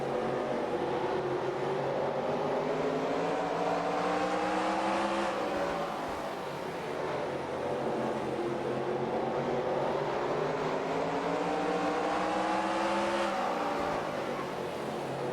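Race cars in the NASCAR Racing 2003 Season video game at the old Catamount Stadium, a loud continuous engine drone rising in pitch through the gears, easing off and climbing again around the lap with no talk.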